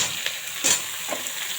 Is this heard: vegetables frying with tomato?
yes